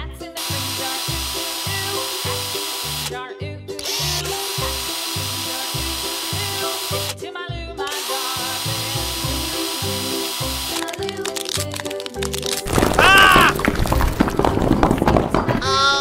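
A toy drill truck from a transforming fire-rescue vehicle set whirs with a steady, pulsing electronic drilling tone. Brief breaks interrupt it, and a louder buzzing burst comes near the end.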